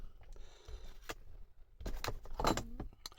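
Metal wrenches and tools from a mobile tool kit clink and jangle as they are handled up close, in a few short bursts of rattling.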